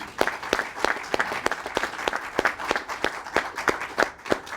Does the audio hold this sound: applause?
yes